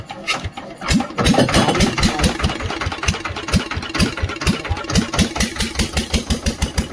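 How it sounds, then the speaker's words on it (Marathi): A fishing boat's diesel engine cranks and catches, then settles into a loud, steady idle with a regular low thumping pulse, heard alone with no talk. "आता मशीन चालू करते"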